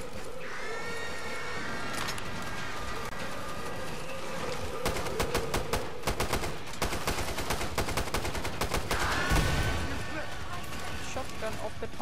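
Winchester shotgun firing in Killing Floor 2 on a snowy base, repeated sharp blasts in close rapid clusters amid dense game action, with people talking over it.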